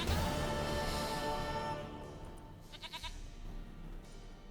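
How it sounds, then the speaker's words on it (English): A goat in The Witcher 3 gives a short, quavering bleat midway through, faint and wavering, heard over a dense, steady game soundscape. "Goat of mine, dearest, sweetest goat."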